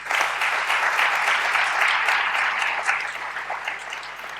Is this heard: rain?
no